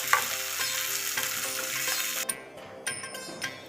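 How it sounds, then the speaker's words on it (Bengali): Potatoes fry in hot oil in a home kitchen, giving a loud, steady sizzle that stops abruptly and gives way to a few scattered stirring clinks and taps from the pan. "এবার আমি আলুটা ভাজবো।"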